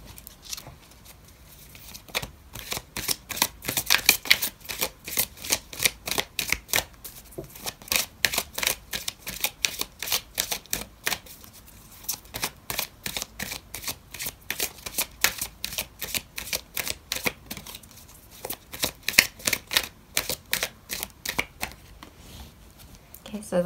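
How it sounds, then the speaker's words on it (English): Tarot cards are shuffled near the microphone in steady rapid riffling bursts, repeating in waves with brief pauses between them while a voice speaks quietly underneath. "I'm going to pull out another card for you"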